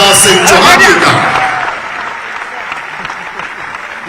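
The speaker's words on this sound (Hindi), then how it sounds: "जोरदार ताली से आइए स्वागत करें माननीय मुख्यमंत्री श्री शिवराज सिंह चौहान जी का" An audience at an award ceremony in Bhopal breaks into loud, dense applause welcoming the chief minister, peaking at once and then slowly fading.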